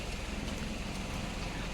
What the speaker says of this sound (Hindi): बारिश का मज़ा लेते हुए।